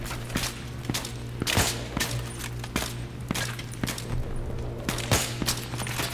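Scattered gunfire from a Battlefield 3 campaign firefight: sharp shots crack at irregular intervals over a steady low hum and ambient battle noise, with several bursts close together.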